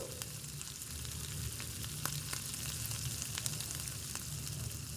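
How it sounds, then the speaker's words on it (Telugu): Chili powder, cumin and coriander powder frying in a pan, a continuous soft sizzle and crackle with scattered small pops, heard alone and fairly quiet. "ఒక పావు టీ స్పూన్ కారం ఒక పావు టీ స్పూన్ జీలకర్ర పొడి ఒక పావు టీ స్పూన్ ధనియాల పొడి మసాలాలన్నీ కూడా ఒకసారి వేయించేసుకున్నాము"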